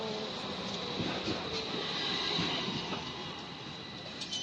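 A train runs through a station in Turkey, a steady rumble of wheels on rails with faint squeals and metallic rattle, moderately distant and even throughout, with no talk.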